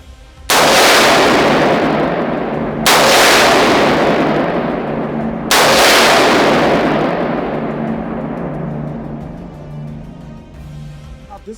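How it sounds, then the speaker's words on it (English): Three loud, sharp gunshots from SSS Defence firearms, such as a P-72 assault rifle chambered in 7.62x39, ring out a few seconds apart at an outdoor firing demonstration, each followed by a long rolling echo that slowly fades. "Firing."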